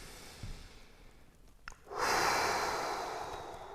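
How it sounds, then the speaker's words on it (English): During a golf stretching routine for players over 50, a slow deep inhale is followed by a long, loud exhale with a slight snort, close to the microphone. "Full deep breath in, full deep breath out."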